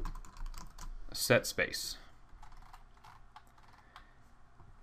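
Someone types on a computer keyboard, a quick cluster of crisp key clicks early on followed by sparser taps, heard close and under a brief spoken word or two.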